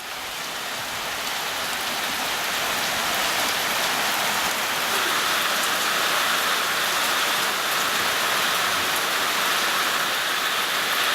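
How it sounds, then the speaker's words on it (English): Heavy rain in Japan pours down steadily and loud, a dense unbroken hiss of drops drumming on surfaces that swells slightly and holds without pause, with no voices. "Instead, there was a shitload of rain."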